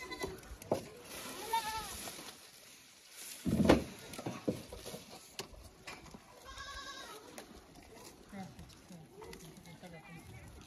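Goats at a stall-fed farm in Jintur, Parbhani district, bleat in several distinct calls spread over the stretch, mixed with someone talking nearby and some rustling.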